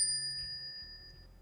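Bright notification bell ding, a single clear ringing chime that sustains and fades quietly over a low hum.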